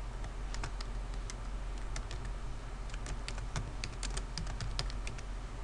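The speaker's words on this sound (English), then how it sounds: "Subject, and I type my message." Someone types a message on a computer keyboard, producing a steady stream of quiet, close keystroke clicks with irregular rhythm throughout, no talking.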